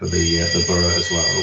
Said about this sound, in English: that's my fire alarm going off.